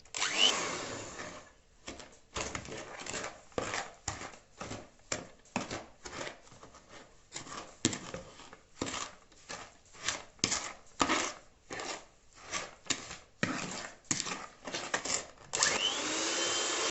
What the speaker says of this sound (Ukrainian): Додаємо цукор, і нам тепер потрібно це все збити. Буду використовувати міксер.